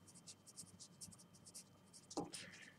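Pen strokes scratching across paper in short, rhythmic bursts, fairly quiet and close, with a brief louder scrape near the end.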